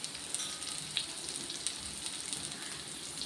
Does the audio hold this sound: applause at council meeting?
no